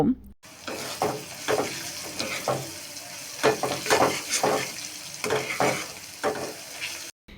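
Onions, chilies and turmeric powder fry in a pan for a spicy river tengra fish curry, stirred in a run of repeated scraping strokes over a steady close sizzle.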